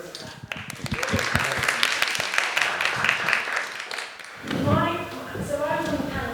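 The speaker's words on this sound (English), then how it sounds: "definitely a round of applause for that" A panel event audience gives a round of applause, dense clapping filling most of the stretch at moderate volume before fading, after which a person talks alone.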